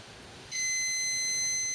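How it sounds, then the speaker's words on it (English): An electronic stud finder sliding along a wall gives a steady, high-pitched beep that starts abruptly and holds for over a second, faint against a quiet room. "when you hear that beep, you know there's a stud there"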